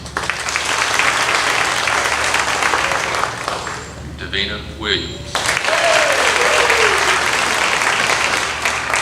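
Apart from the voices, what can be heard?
audience applause for graduating students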